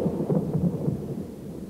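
Thunder rolls through a typical summer thunderstorm day in Germany, a low rumbling swell that rises and ebbs, moderately loud and distant, with faint rain behind and no talk.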